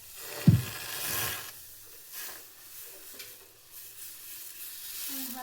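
Masala dosa batter, made from ration rice, sizzling on a hot pan with a soft steady hiss, one brief louder scrape near the start and quiet stirring sounds after.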